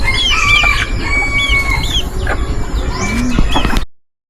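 Bantam chickens cluck and chirp in short, scattered calls over a busy outdoor background, with other birds chirping now and then.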